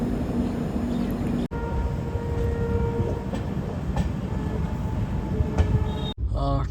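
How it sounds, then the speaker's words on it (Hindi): Second-class AC train carriage running between Mount Abu and Jaipur, a steady loud rumble of wheels and rails with faint rattles, a couple of brief dropouts and a clatter near the end. "ट्रेन अपनी चल तो चुकी है और अजमेर पहुंच जाएगी अगले 5 मिनट में ये"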